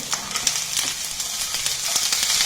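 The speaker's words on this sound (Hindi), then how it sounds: "ये मटर को हमने 1-2 मिनट के लिए भून लिया है" Fresh shelled peas frying with softened onions and vegetables over high flame, giving a bright continuous sizzle with scattered crackles and occasional stirring scrapes, close and fairly loud.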